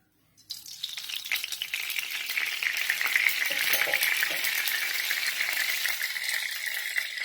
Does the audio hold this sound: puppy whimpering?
no